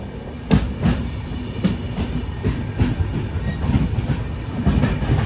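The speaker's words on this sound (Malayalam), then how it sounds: "ധോൺ ജംഗ്ഷൻ റെയിൽവേ സ്റ്റേഷനിലേക്ക് ഇതാ നമ്മുടെ ട്രെയിൻ എത്തിക്കൊണ്ടിരിക്കുകയാണ്." The Mangaluru–Kacheguda Express rolls into Dhone Junction station, its wheels clattering in a steady, close clickety-clack rhythm over rail joints with a constant rumble beneath and no voices.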